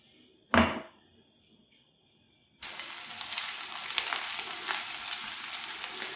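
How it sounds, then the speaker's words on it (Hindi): A sharp knock sounds, then after a short quiet pause, cream in a pan bursts into steady, loud sizzling frying that continues to the end, while making white chicken karahi. "हल्का सा हमने इसको फ्राई करना है।"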